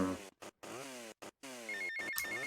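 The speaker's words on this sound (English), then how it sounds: "he's gonna take the phone call" Phone ringing in the video game GTA Vice City, a tonal electronic ringtone chirping in repeated short bursts over game music, clear and up front.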